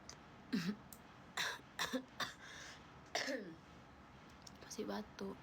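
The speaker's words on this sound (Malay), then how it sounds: "Masih batuk." Someone coughs and clears their throat in several short, separate bursts, quiet and close.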